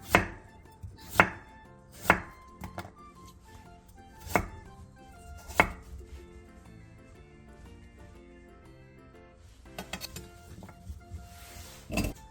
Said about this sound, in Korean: 무 3분의 1개를 1cm 정도 두께로 한 입에 먹기 좋게 잘라주세요